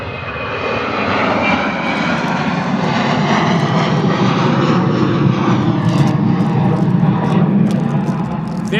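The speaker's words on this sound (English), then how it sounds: "Slow climb rate from the Ryanair, eh? Heavy." A heavily loaded Ryanair airliner climbs slowly out of Bristol Airport after takeoff, its jet engines a loud, steady, broad roar sustained throughout, with faint clicks near the end.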